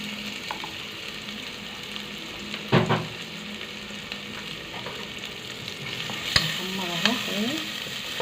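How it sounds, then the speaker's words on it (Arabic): Onion frying in oil in a pan: a steady, close sizzle throughout, with a clatter of stirring near the start and scraping and stirring sounds toward the end. "ادي بحمر البصلة اهي"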